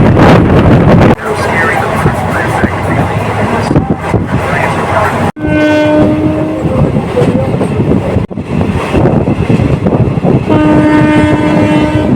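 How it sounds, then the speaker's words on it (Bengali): A passenger train from Kolkata toward Tarapith rumbles and clatters steadily nearby as it pulls out of a station, with sustained horn-like tones sounding at intervals and wind noise throughout. "বর্তমান স্টেশন থেকে ট্রেন ছেড়ে দিল"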